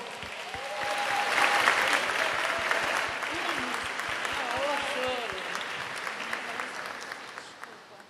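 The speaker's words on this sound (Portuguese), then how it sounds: "Um salva de palmas para ela." Sustained applause from a crowd at a formal ceremony, steady clapping with a few cheers and voices mixed in, lasting the whole stretch before slowly thinning.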